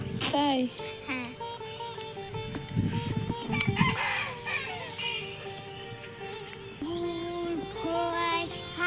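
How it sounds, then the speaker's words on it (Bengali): Chickens cluck and a rooster crows nearby, with the crow rising out of the mix, while people chat close by over the birds. "মুরগি আছে"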